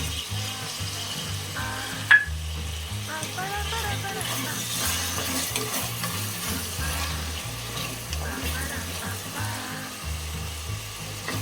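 Chopped tomato hits a hot pan of pork and sizzles steadily as it is stirred, with scraping and faint clinks under a person talking.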